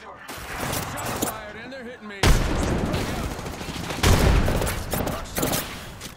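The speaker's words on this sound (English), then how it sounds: "I'm gonna throw a nade." Game-world gunfire and a heavy blast from a thrown grenade in a multiplayer shooter, dense bursts of shots and booms filling the mix with a sharp loud hit midway and another later, with player voices faintly underneath.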